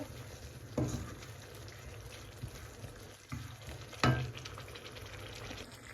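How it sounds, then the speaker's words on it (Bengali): Chili and coriander powder spices fry in oil in a pan with a soft, steady sizzle, broken by a couple of louder scraping stirs. "এখন মশলাগুলো একটু কষাতে হবে।"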